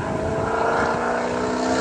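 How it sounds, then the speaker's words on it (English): A very loud car passes close by outdoors: a steady, dense engine and road roar that holds level for the full two seconds, with no voices. "I gotta let this car pass because it is extremely loud."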